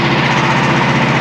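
A Frontier OS27 portable sawmill's engine runs steadily at close range, a loud continuous drone with a rapid throbbing pulse and no talking.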